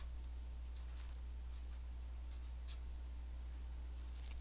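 Numbers written by hand during a geometry lesson give faint, close, irregular pen ticks and scratches over a steady low hum, with no talking.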